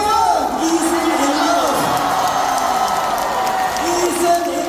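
A concert crowd applauds and cheers for a guest at a concert, with a dense, steady roar of clapping, whoops and shouts that carries through the whole stretch while voices rise over it.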